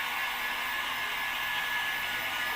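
A heat gun blows steadily while warming car window tint film during installation, a continuous loud airy rush without a break and with no voices.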